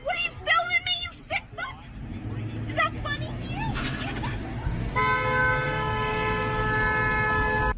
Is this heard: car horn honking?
yes